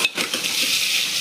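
Onion and tomato fry in a pan with a continuous bright sizzle, close and fairly loud, with light stirring and utensil scrapes mixed in.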